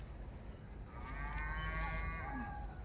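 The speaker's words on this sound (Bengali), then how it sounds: "আর গরু শব্দ, গরু সাইডে থইছে।" A cow moos in the open countryside near a lotus pond, a drawn-out, fairly faint low call at mid-distance over steady outdoor background noise.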